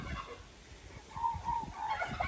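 Chickens cluck softly in a backyard with other farm birds nearby, a low, steady murmur of fowl sounds that rises slightly toward the end.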